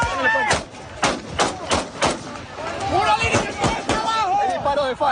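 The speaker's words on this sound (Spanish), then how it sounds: "Hay disparos de FAL, fusil, disparos de fusil." Rapid bursts of FAL rifle gunfire crack repeatedly in an exchange of fire at La Carlota, several sharp shots in quick succession, with shouting voices and commotion underneath.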